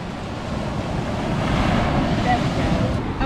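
Ocean surf washing onto a beach at Assateague Island, a steady broad roar of waves mixed with wind buffeting the microphone, continuous and fairly loud with no talking.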